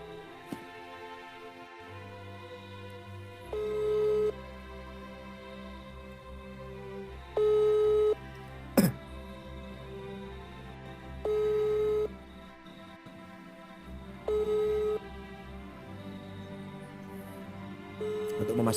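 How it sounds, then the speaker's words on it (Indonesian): An outgoing phone call rings with repeated long tones in a steady cadence, about five evenly spaced rings over a low hum, heard through a phone line with no answer. "sekarang saya mau coba hubungi penelpon yang suaranya sama dengan Habib Taufik Asseg"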